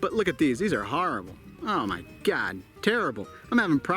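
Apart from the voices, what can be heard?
None of the usual background noises is heard.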